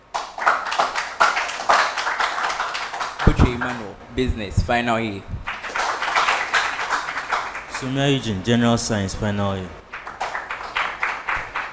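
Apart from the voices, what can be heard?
audience applause for quiz team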